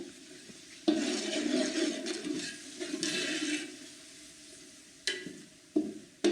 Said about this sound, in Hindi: मसाले को खूब अच्छा सा भूनेंगे